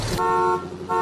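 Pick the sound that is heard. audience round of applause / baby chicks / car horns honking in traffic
car horns honking in traffic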